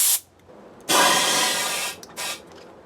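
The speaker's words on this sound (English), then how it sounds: "I like to fill my tubes up before I put them in" Compressed air hissing into a motorcycle inner tube for a Harley Road King, a short burst followed by a long steady blast and a brief final puff, close and loud.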